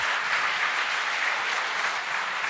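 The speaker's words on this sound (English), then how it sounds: "A big round of applause." Steady, dense applause from a keynote session audience at an Ayurveda and yoga expo, sustained evenly throughout without speech.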